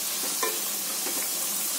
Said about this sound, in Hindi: जो मैं फ्राई इसको कर रही हूँ